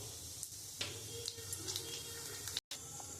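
Black nigella seeds hit hot oil left from frying fish, crackling and sizzling close by with small pops scattered over a low frying hiss, broken by a brief silent gap.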